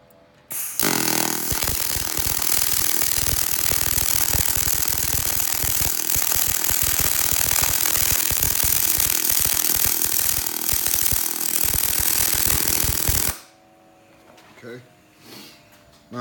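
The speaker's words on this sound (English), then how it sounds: "I noticed the pulse, it seems to weld pretty smooth." Pulse MIG welding of 309 stainless steel shielded with 100% argon on a Pro Pulse 200 welder: a loud, steady crackling buzz with a rapid sputtering rhythm runs continuously for about twelve seconds and then cuts off abruptly, leaving quiet.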